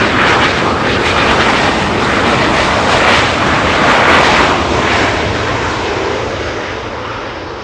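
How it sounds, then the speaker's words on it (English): A small CRJ regional jet arriving at Los Angeles International Airport gives off a loud, close whining roar that holds steady, peaks around the middle, then tapers off toward the end. "a little CRJ arriving on 248"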